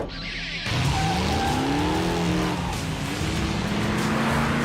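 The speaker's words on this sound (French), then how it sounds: "La voiture est vraiment très nerveuse." A Datsun 240Z being driven hard, its engine revving loudly and steadily with rising and falling pitch, tires squealing through a turn, all close and continuous.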